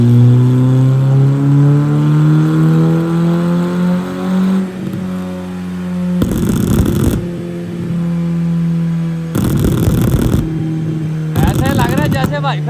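A tuned Nissan GTR revs hard with a steady engine drone, then loud bursts of exhaust pops and bangs crackle out in three sharp clusters, close and aggressive.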